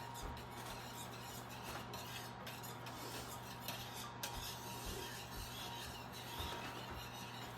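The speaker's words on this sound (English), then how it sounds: "just keep stirring that, Noah" A utensil stirs custard thickened with cornstarch in a pot for a traditional English trifle, giving a continuous soft scraping and rubbing with small clinks against the pan, close and quiet, with no voices.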